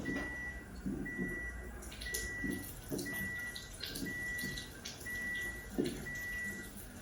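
Water from a Kangen ioniser set to pH 11.5 pours steadily into a bowl holding tomatoes, a continuous close splashing with faint repeated electronic beeps over it.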